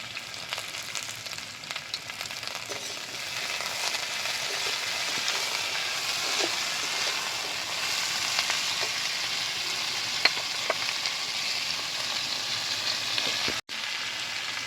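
Vegetables frying in a pan over a village kitchen fire, a continuous dense sizzle with light stirring scrapes throughout and a brief dropout near the end, no talking.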